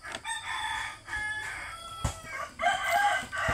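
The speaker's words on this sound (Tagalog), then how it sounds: "papakita ko sa inyo ang aking mga alagang manok" Pet rooster crowing among backyard chickens, with several drawn-out cock-a-doodle-doo calls repeating close by over soft clucking, no talk.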